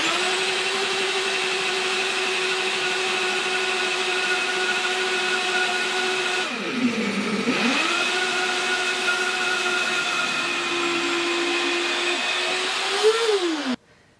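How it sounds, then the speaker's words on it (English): A blender runs continuously with a steady whirring hum as coconut oil is slowly poured into soy milk, its pitch dipping briefly midway as the load changes, then cutting off at the end. "As the blender is running, I'm going to very slowly pour the coconut oil into the soy milk"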